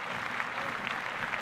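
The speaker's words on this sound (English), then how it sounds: "Clap that up." Brief steady applause from a studio group on a talk show, an even wash of clapping at moderate level with no breaks.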